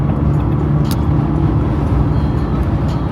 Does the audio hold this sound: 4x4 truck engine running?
yes